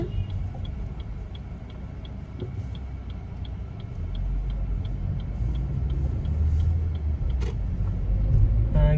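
A 2022 Maruti Suzuki Baleno automatic on the road, heard from inside as a steady low engine and road rumble that swells gradually, with a faint regular ticking like an indicator running through it and no talk.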